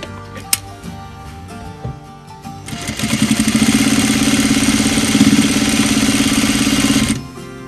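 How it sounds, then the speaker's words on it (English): A sewing machine stitches closed a hole in a small fabric pet bed for guinea pigs or hedgehogs, a few clicks and taps first, then a steady close mechanical whirring run for about four seconds that stops abruptly. "We're just going to sew that little hole closed."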